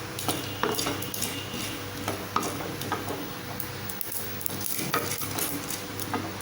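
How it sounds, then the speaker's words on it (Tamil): Asafoetida, mustard seeds, fenugreek and cumin fry in a pan over medium heat with a steady close sizzle, broken by frequent scraping and clinking of a stirring spoon against the metal, and no voices. "இப்போ இது கூடவே பெருங்காயம் கொஞ்சம் வறுப்பட்டதுமே கடுகு வெந்தயம் ஜீரகத்தையும் போட்டுடலாம்"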